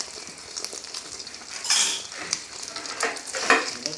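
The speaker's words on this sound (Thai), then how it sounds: "ไข่ลงทอดไข่" Eggs fry in a pan during a home breakfast, giving a close, steady sizzle with stirring and scraping strokes and the odd clink of a metal utensil against the pan.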